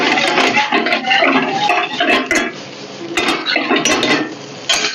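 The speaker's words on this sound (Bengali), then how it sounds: "ভেজিটেবিলগুলো দিয়ে দেবো।" Chopped vegetables go into a pan with onion and garlic, giving loud, close clinks and scrapes of a utensil against the pan along with a soft sizzle, with no talking.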